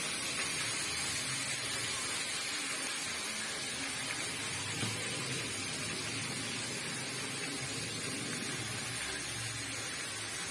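Spinach and eggplant fry with turmeric and salt in a pan, giving a constant hissing sizzle at moderate volume with no talking.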